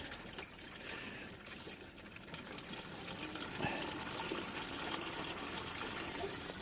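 Water pours and trickles steadily for ducks on an icy homestead, a soft continuous splashing that grows a little fuller toward the end.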